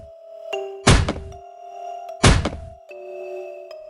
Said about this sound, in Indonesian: terdengar sebuah bunyi ketukan keras yang menggema dari ruang hampa